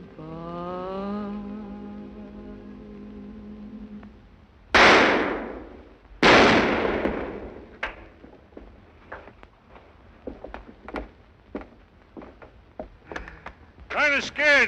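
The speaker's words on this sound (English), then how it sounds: "Just shooting up in the air." Two loud, sharp gunshots fired into the air crack out close by in the 1936 film Banjo On My Knee, followed by a scatter of quieter clicks and knocks, with singing fading out before them.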